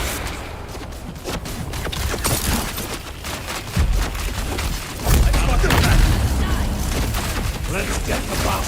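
A grenade blast in the game Dune: Awakening, heard as heavy booms amid bursts of gunfire and mechanical clatter, loud and close, with voices under the din.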